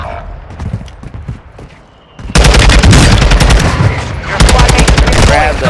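Rapid, loud gunfire from a video game erupts after a quieter stretch, sustained automatic bursts hammering nearly nonstop at close range, with a brief second wave of shots near the end.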